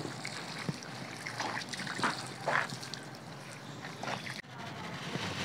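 Water trickles and splashes steadily over freshly applied cement plaster on a building site, a continuous wet pour with a few louder splashes, close by and unbroken by talk.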